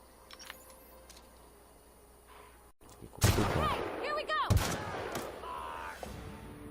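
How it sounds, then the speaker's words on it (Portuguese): Gunfire from the video game The Outer Worlds: after a quiet stretch with soft game ambience, a burst of loud shots and impacts erupts, with ringing energy-weapon tones and several sharp cracks layered together. "Olha aí, não pegou outro tiro,"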